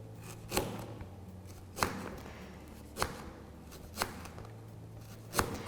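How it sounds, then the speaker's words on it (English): A knife slices through fresh ginger on a cutting board, five separate cuts spaced about a second apart, quiet and close. "So I'm just going to cut a few slices of ginger here."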